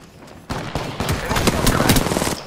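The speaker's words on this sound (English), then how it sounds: "Shots fired, and they're hitting me." Gunfire in the video game Apex Legends, a rapid burst of loud automatic shots that starts abruptly and keeps rattling close, with players' voices faintly mixed in.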